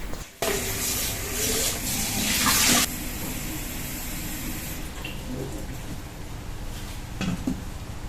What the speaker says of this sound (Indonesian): ini jamur kupingnya mau aku cuci bersih dulu, mau aku rendam